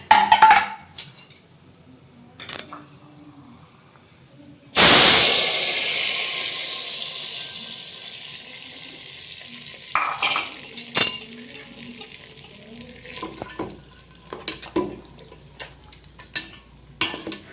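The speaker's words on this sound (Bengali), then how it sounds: "আর এখানে গোটা জিরে আর গোটা কত শুকনো লঙ্কা সর্ষের তেলের ওপর দিয়ে দিলাম" Whole cumin and dried chillies dropped into hot mustard oil as a tempering for khichuri: a loud sudden burst of sizzling hiss that slowly settles, with scattered clinks and knocks of utensils before and after.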